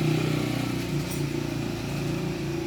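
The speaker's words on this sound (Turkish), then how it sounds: "motor geçiyor da sesin e, anlaşılsın diye bekledim" A motorcycle engine drones steadily nearby on a street, a low mid-pitched rumble that stays loud and even throughout without clear rise or fall, heard on its own with no talking.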